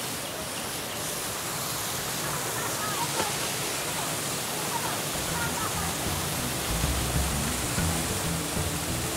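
Water from jungle waterfalls runs through bamboo gutters, a constant broad rushing wash that stays steady and moderately loud throughout.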